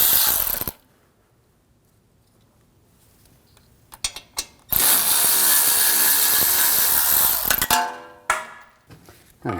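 An electric power tool whirs and ratchets while loosening brake caliper slide pins on a 2006-2009 Audi S4 4.2L V8, a short burst, a quiet pause with clicks, then a longer loud run and brief trailing bursts.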